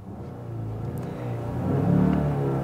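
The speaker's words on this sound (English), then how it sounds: "take a look at the numbers as I rev the engine" A Genesis G80 engine revs while the car stands still, a low rumble that swells in the second half to a louder peak before easing slightly, heard up close with no talking.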